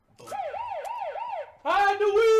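Police siren in a Batman video game: a wailing siren sweeps up and down several times, then switches to a higher, harsher continuous tone, loud and close.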